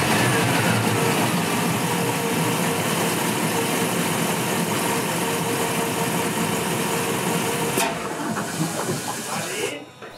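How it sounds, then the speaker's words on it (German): The V8 300 hp engine of a Saver 830 Cabin boat on Lake Constance runs steadily under the rear sun lounger, a loud continuous rumble with a hissing edge that drops away abruptly near the end. "Unter der Sonnenliege da hinten ist der Motor, den hören wir uns jetzt einmal kurz an."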